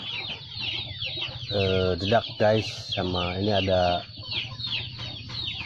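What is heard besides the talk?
Bangkok chickens clucking at feeding time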